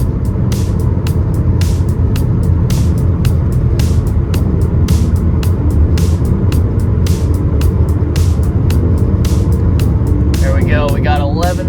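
A Chevy Volt rolls downhill on the highway with cruise control set at 68 mph. Steady, loud road and wind noise fills the cabin throughout, with regular sharp ticks from the tires crossing pavement joints.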